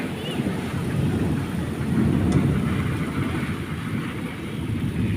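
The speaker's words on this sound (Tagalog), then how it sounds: "Unang ulan sa Qatar natin guys ang unang ulan." Steady rain hisses in Qatar with a low rumble of thunder rolling underneath, continuous and fairly loud throughout.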